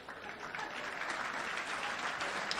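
An audience claps steadily and fairly faintly through a lecture hall, a dense wash of hand claps with no clear voices on top.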